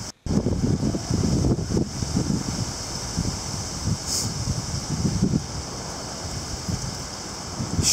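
Strong wind gusts roar through a storm with small hail and heavy rain, a loud, continuous rushing buffet on the microphone that swells and eases throughout.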